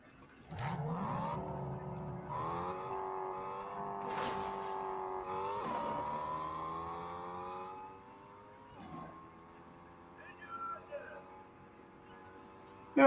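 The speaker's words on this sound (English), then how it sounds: "Got a car here." Car driven in the video game Fortnite, its engine whirring and revving in rising, stepped pitches as it speeds up and shifts, fairly quiet and steady, easing off toward the end.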